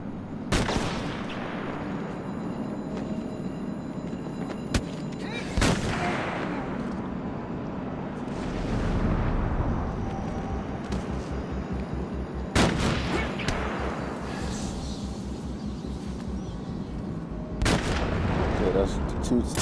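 Sniper rifle shots ring out in the Batman Arkham City video game, four sharp reports spaced a few seconds apart, each with a long echoing tail over a steady game ambience.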